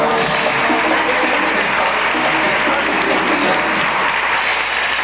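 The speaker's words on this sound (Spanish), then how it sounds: "Rápido, fuerte el aplauso para Doña Blanca" A TV game show studio audience gives dense, loud, continuous applause for a contestant, an even roar of clapping with no gaps.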